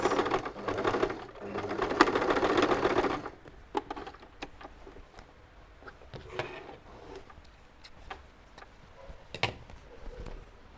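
A sewing machine stitches an inseam pocket, running in a steady dense burst for about three seconds, then giving way to scattered ticks and clicks as the fabric is adjusted.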